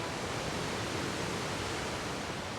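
The Boca da Onça waterfall in Serra da Bodoquena, a 156-metre drop into a river, pours as a steady, loud, broadband roar of falling water with no pauses or voices.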